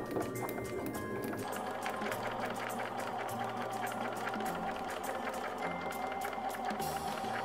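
A sewing machine stitching a straight seam on a practice sheet, a continuous close mechanical whir with rapid needle ticking, steady throughout with no pause.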